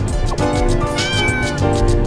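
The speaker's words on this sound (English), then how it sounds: "Do you want to hear my kitty cat impression?" A character in the video game Vacant Sky voices a cat meow impression: a couple of loud, drawn-out, wavering meows filling about two seconds, with no talk over them.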